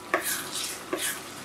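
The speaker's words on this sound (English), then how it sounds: "Make sure you stir it well." Ayamase pepper sauce being stirred in a pot, gentle scraping strokes of a spoon with two soft knocks against the side over a quiet sizzle, no voices.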